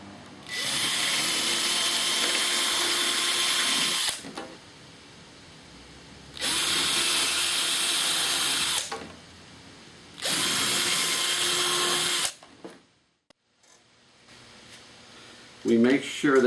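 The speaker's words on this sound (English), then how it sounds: "we're going to take our drill right there on the little X mark we made" An electric drill whirs loudly in three bursts of a few seconds each, drilling a pilot hole for Robart pin hinges, with quieter pauses and some handling noise between them.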